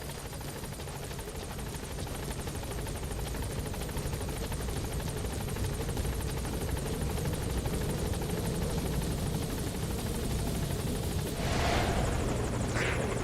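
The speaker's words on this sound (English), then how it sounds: "Support helicopter has arrived." Continuous support helicopter rotor thump and engine whine in Metal Gear Solid V: The Phantom Pain, loud and steady throughout, with a brief higher hiss near the end.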